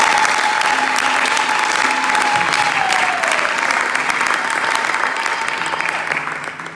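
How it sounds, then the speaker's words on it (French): A church congregation claps and cheers together at a Sunday service, a dense, steady wall of applause lasting several seconds, with a voice calling out faintly over it before the clapping thins toward the end. "Est-ce qu'on peut acclamer pour le Seigneur?"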